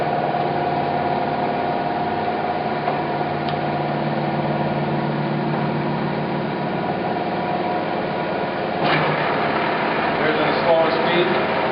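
A Clausing Colchester 1780 engine lathe, 17 by 80 inches with a 3-jaw chuck, runs with a steady low hum and whine, then shifts tone near the end, while a person talks over it.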